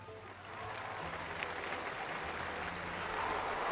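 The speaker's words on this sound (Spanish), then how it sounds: "el aplauso de los fieles congregados en la plaza de San Pedro acoge la bendición del Santo Padre" The faithful gathered in St. Peter's Square applaud the Pope's blessing, a faint, distant wash of steady clapping that grows slightly toward the end.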